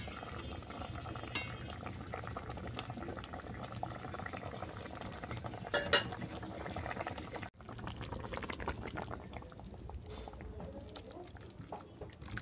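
Soft bubbling and simmering of a thin fish curry with jute leaves in a pot, with faint stirring and utensil clinks over a low, steady hiss; no talking.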